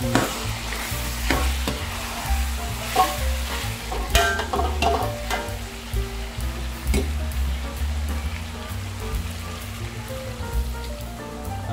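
Pork igado with oyster sauce sizzles steadily in a pan while a spoon stirs it, giving a continuous frying hiss broken by close, repeated scraping and clatter, with no talking.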